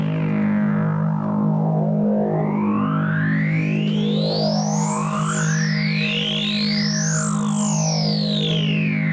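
A sustained tone from an Oberheim OB-Mx analog synthesizer with filter sweeps rising and falling in pitch, producing shifting, resonant, distorted textures throughout.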